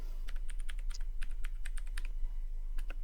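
Keys clatter on a computer keyboard in quick irregular bursts of close, crisp clicks over a low steady hum.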